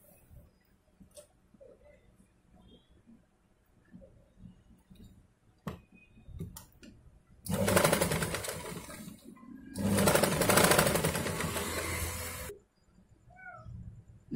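An electric sewing machine stitches lace around the neckline of a blouse in two loud, steady runs of a few seconds each, with quiet pauses and faint knocks between them.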